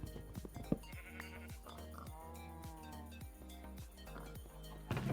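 A sheep in a modded Minecraft One Block game lets out a wavering bleat midway through, heard over steady rhythmic game clicks and background sounds.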